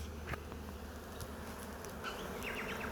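Honeybees buzz around the outside of a hive box during a spring apiary inspection in Melbourne, a steady close insect drone with scattered individual bees flying near.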